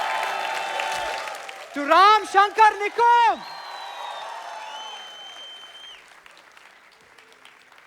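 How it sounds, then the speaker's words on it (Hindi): A live audience at a Taare Zameen Par fan meet with Aamir Khan bursts into loud applause, with sharp whoops and whistles rising over the clapping, after a voice on a microphone speaks; the clapping fades to a lighter patter. "एक बार आमिर खान सर के लिए जोर से ताली बनती है"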